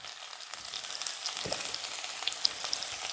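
Crushed garlic, shallots and green chili fry in hot oil with popped mustard seeds, giving a close, steady sizzle broken by scattered sharp crackles and spits.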